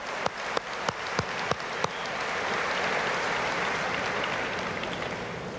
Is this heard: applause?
yes